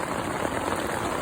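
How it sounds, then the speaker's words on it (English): Rain falling on a tent, a dense, steady patter of drops across the fabric, close and even throughout. "It's raining"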